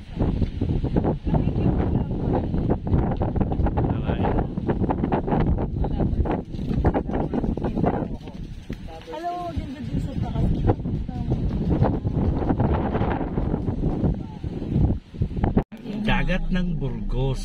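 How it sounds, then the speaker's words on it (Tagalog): Strong wind by the sea at Burgos, Ilocos buffets the microphone in a continuous, loud roar with gusty swells, while a person talks over it. "Sobrang lakas ng hangin."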